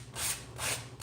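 A sanding block rubs across the edge of painted furniture finished with Dixie Belle paint and wax, making two soft, quiet rasping strokes in quick succession.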